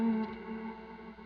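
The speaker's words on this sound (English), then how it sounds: "There would be one example of just using it as like a flanger." A sustained, buzzing musical tone run through the Valhalla Delay plugin used as a flanger, giving a swirling, slowly sweeping modulation; loud at the start, then easing slightly and holding steady with no talk.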